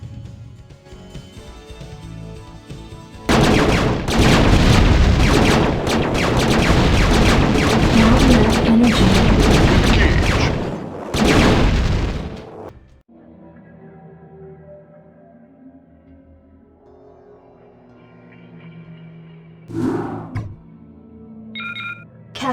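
Battle in StarCraft: Brood War from 1998, with loud dense gunfire and explosions roaring for several seconds, then cutting off to quieter game sounds and a few later blasts.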